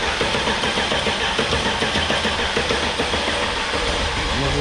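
A loud, steady mechanical churning drone with faint rhythmic pulsing, an engine cranked continuously with its fuel injectors switched off so it does not catch, circulating oil.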